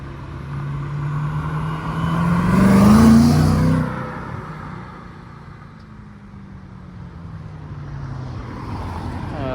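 A BMW M3 engine swells as the car passes close by on a street in Deauville, peaking briefly then fading into steady road and ambient noise.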